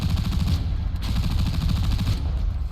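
Rapid automatic tank gun fire in War Thunder, a dense continuous stream of loud close shots with a steady fast rhythm throughout.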